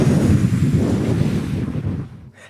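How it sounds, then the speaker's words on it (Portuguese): Wind blows in a strong, rushing gust as a sound effect in a dramatized Bible narration of the valley of dry bones, loud at first and then fading away, with no talk over it. "ele ouve um barulho de vento"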